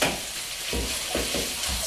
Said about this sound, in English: So you can maybe hear that sizzling away.